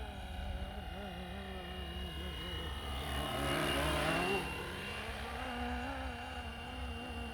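A Flywing Bell 206 radio-controlled helicopter flies during an endurance test, its rotor and motor whine holding steady and swelling briefly as it passes closer.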